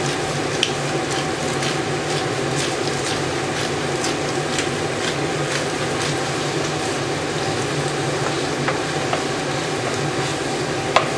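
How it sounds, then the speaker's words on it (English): Mushrooms seasoned with kosher salt and black pepper sauté in a pan, a continuous moderate sizzle broken by regular spatula scrapes and taps as they are stirred around, close up and without speech. "The mushroom is almost getting softened after I keep moving all the way around."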